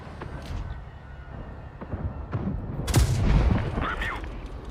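Heavy tank cannon blasts boom in Tanks Blitz, with a loud shot near the middle and rumbling low-end around it, close and forceful.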